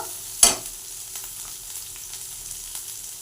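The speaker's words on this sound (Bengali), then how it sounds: "আদা বাটা একটু দিয়ে দিচ্ছি একটু রসুন বাটা দিচ্ছি এক চামচ তাও হাফ চামচ করে দিয়েছি মশলা দিয়ে এটা কষে নেব" Ginger garlic paste frying with spices in a pan for an egg malai curry, one sharp scrape of a spoon followed by a low, even sizzle, quiet and close with no voices.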